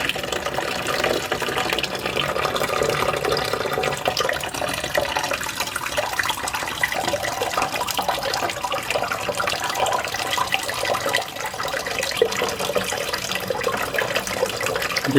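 A toilet tank refills with water, a continuous rushing hiss that stays even and close, without pause, for the full stretch.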